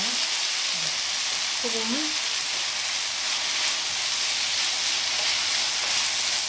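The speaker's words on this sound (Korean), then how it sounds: "이때까지 볶아주시면 돼요" Potato strips stir-frying in a pan with salt for a crisp home-style gamja-bokkeum, a steady close sizzle running the whole time while a voice speaks briefly near the start.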